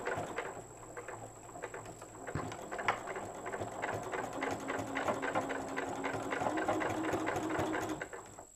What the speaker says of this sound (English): this tells me that it'll be time to back stitch and finish off my sewing